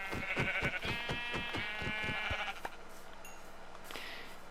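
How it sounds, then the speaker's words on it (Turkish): Minecraft sheep bleating in a quick run of repeated short, bright bleats over the first half, then trailing into quieter game ambience with a faint later bleat. "Lan koyun dedim koyun sülalesi geldi mi gerçekten?"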